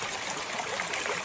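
Mountain spring water streaming steadily out of the rock, a continuous close bright rush and trickle with no voices over it.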